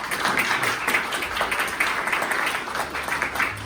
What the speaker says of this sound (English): Round of applause to our panel.